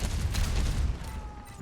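Rapid volley of rocket blasts from Pharah's Barrage ultimate in an Overwatch esports match, a loud, rumbling fusillade of overlapping explosions that fades slightly toward the end.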